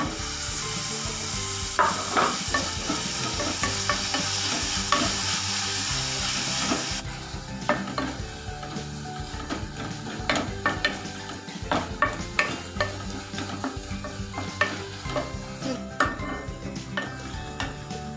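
Tomato sautéing in hot oil for a vegetable kurma, a steady sizzle with a spoon repeatedly scraping and stirring the pan, close and clear with no talking.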